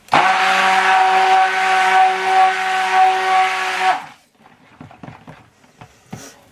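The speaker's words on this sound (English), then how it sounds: "And using the actual blender." A loud blender whirs steadily for about four seconds, then cuts off, followed by quieter clatter and handling sounds.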